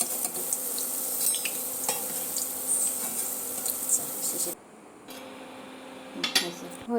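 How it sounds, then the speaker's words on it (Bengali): Jackfruit fritters made with rice flour frying in hot oil as they are flipped one by one; a steady, close sizzle with light utensil clinks, easing briefly midway before rising again. "আমি একে একে এখন বড়াগুলো উল্টিয়ে দিচ্ছি। তেলটা বেশ ভালো গরম হয়ে গেছে।"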